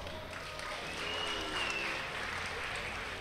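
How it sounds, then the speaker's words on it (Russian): Audience applause for an esports team at a Dota 2 tournament finals on stage, a steady wash of clapping and crowd noise filling the hall at moderate level, without a clear break, mixed with some voice. "Прошу любить и жаловать, ваши аплодисменты."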